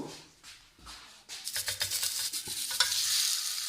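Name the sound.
chicken patty sizzling as placed in frying oil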